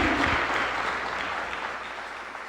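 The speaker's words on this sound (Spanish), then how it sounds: "Dale un aplauso al Señor." A church congregation applauds during a sermon, a burst of dense clapping that starts strong and tapers gently, heard alone without speech.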